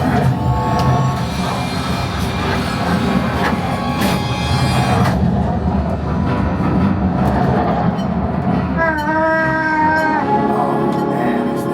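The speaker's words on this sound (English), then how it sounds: "Oh, there is the train." Train sound effect on the Millennium Falcon: Smugglers Run ride, a loud continuous rumble and clatter filling the whole stretch, with rising whining tones near the end and ride soundtrack mixed in.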